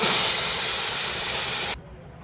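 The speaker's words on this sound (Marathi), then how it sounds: "आता यामध्ये दूध टाकूया।" Milk poured into a hot pan of golden-roasted vermicelli with grated coconut for Marathi-style kheer, giving a loud, steady steamy hiss and sizzle for nearly two seconds before cutting off sharply into quiet.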